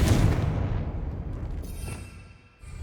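A Confringo fire blast spell explodes in Hogwarts Legacy, a loud booming burst at the start that rumbles and fades over a couple of seconds, with a second swell near the end.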